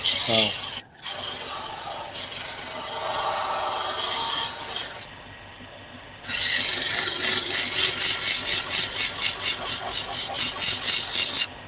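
Close, brisk rubbing of 600 grit sandpaper backed on a flat piece of wood, rhythmic strokes with a brief pause midway, then faster repeated passes, loud and dry.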